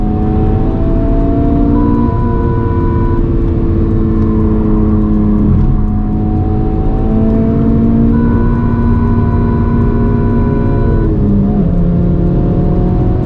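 A Honda Civic Type R on Michelin Pilot Sport 4S tyres is driven hard around the Mandalika circuit, its engine droning loud and close from the cabin, pitch climbing through the gears with brief shift dips.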